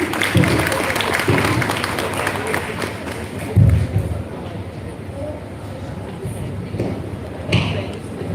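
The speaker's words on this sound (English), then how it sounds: "Let's give him a big round of applause." Applause from a school audience greets a sixth-grade student speaker, a steady wash of clapping with occasional thumps and louder bursts, filling the hall for several seconds.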